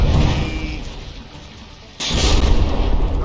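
Battleship magazine exploding in a From the Depths naval battle: a sudden heavy blast cuts in midway and holds as a loud, sustained roar over ongoing rumbling combat noise.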